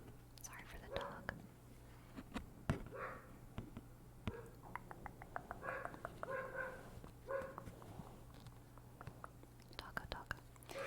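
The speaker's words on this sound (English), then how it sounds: "Sorry for the dog." A dog barks and whimpers in short bursts indoors, faint under soft whispered talk.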